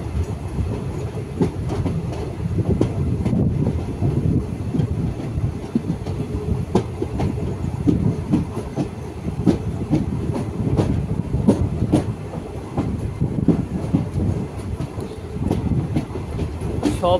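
The 15603 Guwahati–Ledo Intercity Express runs at night with a steady, loud rumble from inside the coach and rhythmic clickety-clack of wheels over rail joints throughout.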